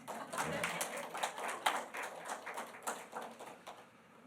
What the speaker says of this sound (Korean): 이럴 때 박수 치는 거 아니에요?